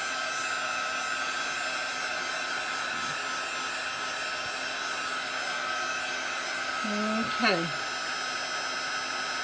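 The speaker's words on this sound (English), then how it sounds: "You can use a hair dryer." A hair dryer blows steadily and loudly at close range, drying chalk paste on a craft project, a constant whooshing hum with a short spoken word near the end.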